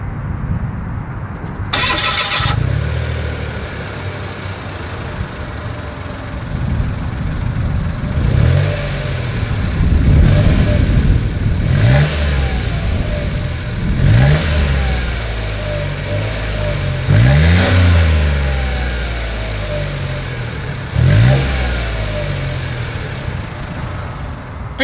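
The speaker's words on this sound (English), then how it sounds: "as always, here is that exhaust clip" A Mitsubishi Mirage with a single exhaust outlet cranks and starts, then settles to idle before several sharp revs rise and fall in a repeating pattern, loud and close to the tailpipe.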